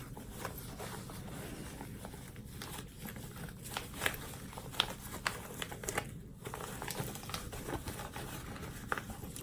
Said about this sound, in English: now we're just gonna flip the bag through your zipper hole